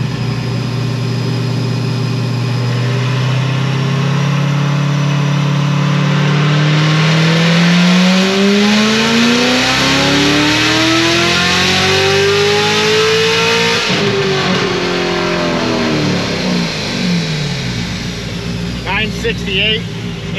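A supercharged Corvette C7 Z06 with a heads-and-cam setup and a 2650 Magnuson blower makes a long, loud wide-open pull, its engine note climbing steadily through the revs before cutting off sharply and settling into a lower burble.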